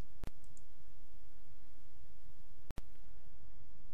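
Two sharp, isolated mouse clicks, one early and a quick double click later, ring out over a faint steady hiss in a quiet room.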